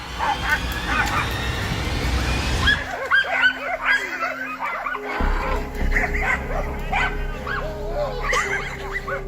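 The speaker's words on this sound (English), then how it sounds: "As the dogs continue to chase the hog" Hunting dogs bark and yip in bursts while chasing a wild hog outdoors, the barking loud and close and mixed with steady background rumble and commotion.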